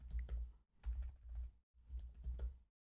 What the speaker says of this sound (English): Then we go back to the terminal, and then we type in the name of the file.